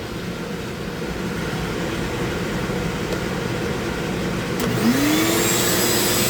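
A Dremel rotary tool carving a wooden friendship staff: a steady, close high-pitched motor whine that rises in pitch as it spins up.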